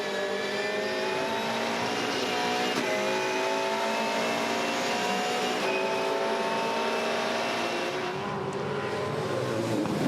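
Volvo V8 Supercar engine heard from inside the car at Albert Park, a loud continuous roar with rising and falling revs through gear changes, steady and close throughout.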